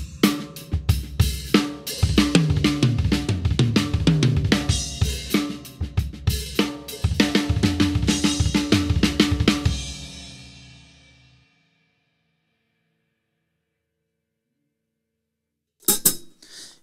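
A drum set plays single drag tap rudiments as sixteenth-note unisons, hands striking together in quick, busy bursts of crisp hits for about ten seconds, then ringing out into silence before a brief final hit.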